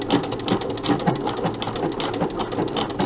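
Sewing machine stitching machine appliqué on a quilt block, a close, steady rapid needle chatter with an even mechanical rhythm.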